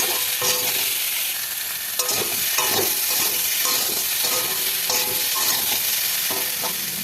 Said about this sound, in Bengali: আলুটাকে তেলে ভেজে নেব।